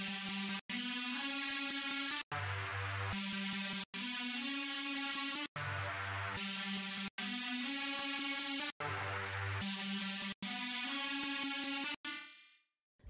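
A synth lead melody played on the Lead GLE preset from Onyx's Crank Serum Bank, loud and upfront, moving in choppy sustained notes with short gaps between phrases before it trails away at the end.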